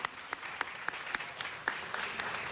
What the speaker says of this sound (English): give me a warm round of applause for Nancy for this spectacular achievement